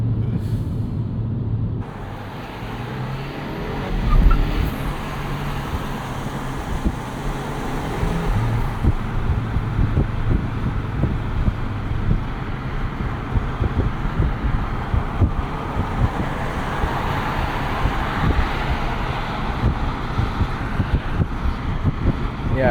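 A 2025 Mini Cooper JCW turbo hot hatch driving on the road, with a steady low engine drone and rolling road and wind noise throughout, fairly loud and continuous with no talking.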